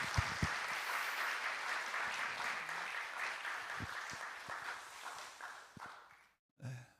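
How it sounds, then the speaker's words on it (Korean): Church congregation applauding during a Sunday worship service, a dense wash of clapping hands that holds steady and then tapers and cuts off near the end, with no one talking over it. "우리 한번 하나님께 감사 박수 한번 드릴까요?"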